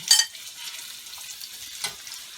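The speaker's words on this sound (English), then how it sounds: "the onions are still frying" Onions frying over medium heat in a pan, a soft steady sizzle with faint stirring scrapes and a couple of brief louder bursts, close and alone without talk.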